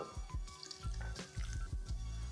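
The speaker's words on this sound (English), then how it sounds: "Just gonna add a little bit of water." Water is poured into a blender holding chopped shadow benny, a faint gurgling splash with rhythmic glugging pulses repeating about every quarter second.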